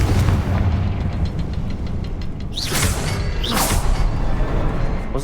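Fiery Confringo spell blasts in Hogwarts Legacy, two bright whooshing bursts rising over a dense, rumbling battle din that runs throughout.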